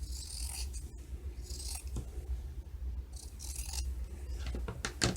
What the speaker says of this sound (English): then just cut to this corner there